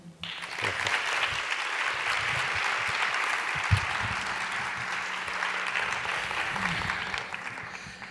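Applause from a congress audience in an education conference hall, with broad, sustained clapping that fills the room evenly for the whole stretch.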